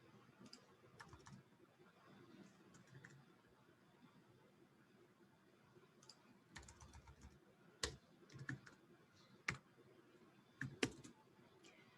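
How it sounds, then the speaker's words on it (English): Quiet computer keyboard typing and mouse clicking while text is edited, with soft scattered keystrokes, a few louder distinct clicks toward the end, and low room noise. "Again, I'm just clicking on the text and changing it."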